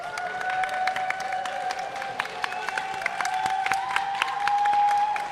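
Crowd noise at a longsword and sword-and-buckler tournament during a medal match, with scattered claps and cheering held steady throughout, while a commentator talks over it.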